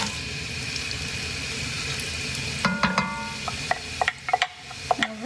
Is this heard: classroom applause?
no